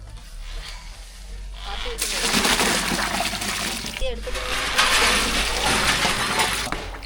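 Hot water pours into a pot of vegetable biryani with rice, two close gushing splashes with a brief break between, while a voice talks over the cooking.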